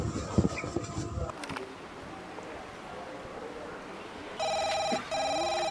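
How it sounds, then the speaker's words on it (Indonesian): A telephone rings with an incoming call: two bursts of bright electronic trilling near the end, after a stretch of muffled background noise. "Duh, siapa sih ini lagi yang nelpon?"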